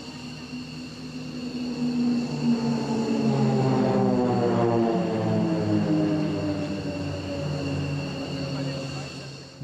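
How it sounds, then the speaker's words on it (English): Formation of nine Pilatus PC-7 propeller trainers passing over an airshow, a loud sustained drone with harmonic tones that swells to a peak mid-pass and then slowly recedes. "They only fly the PC-7 for the demonstration with the team."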